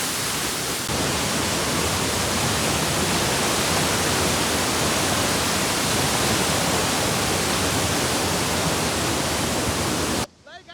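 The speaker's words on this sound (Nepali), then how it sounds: "झरनाको बहाव हेर्नु यहाँ झरनाको भाव यस्तो फोर्स ल्याइरहेको छ" Sundrawati waterfall pours with force after rain, a loud, steady broadband roar of rushing water that fills the whole scene without pause until it cuts out abruptly at the end.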